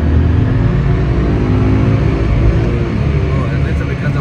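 A BMW engine on a dynamometer in fifth gear roars loudly and continuously at full throttle, its rising tone sustained throughout.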